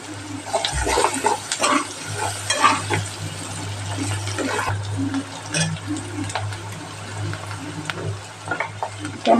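Onions fry in a pan with turmeric and garlic-ginger paste while chickpea curry is being made, a steady close sizzle over a low hum, broken by repeated scraping stirs and spoon clinks.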